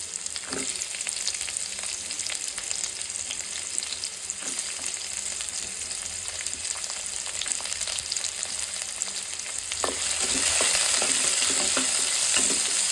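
Chopped onions fry in a pan for a vegetarian Korean ramen bowl, a steady close sizzle and crackle that grows louder and brighter near the end, with no talking.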